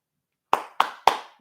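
Three sharp hand claps, close and crisp, evenly spaced after a short silence with a quick decay on each.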